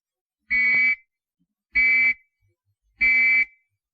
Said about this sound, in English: Or 3 whistles like this.